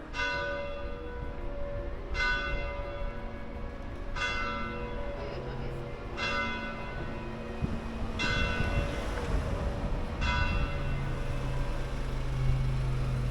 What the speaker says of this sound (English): Perfect timing, the church bells.